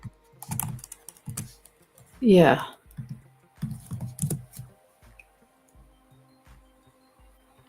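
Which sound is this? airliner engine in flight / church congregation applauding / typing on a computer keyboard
typing on a computer keyboard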